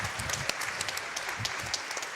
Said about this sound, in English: A clap for best RNG in the event.